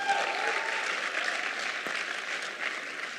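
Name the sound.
audience applause at a grand opening event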